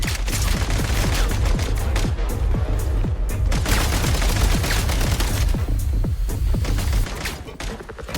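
Rapid bursts of video game gunfire with booming shots and dense automatic fire, loud and continuous throughout the battle, with no voices.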